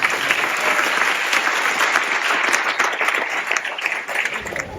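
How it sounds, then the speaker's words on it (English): An audience applauding at a middle school grand opening, steady, full clapping throughout that tapers slightly toward the end. "please give them all a round of applause"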